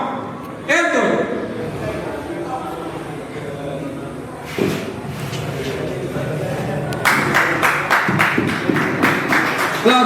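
Audience at a rap battle semifinal claps and reacts, a burst of applause near the start, another around the middle, then a louder, denser round of clapping toward the end, with voices talking throughout.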